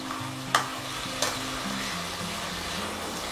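Coriander leaves frying in oil over low to medium flame for Diwali chivda, a steady close sizzle with a couple of sharp stirring clinks and a faint background hum.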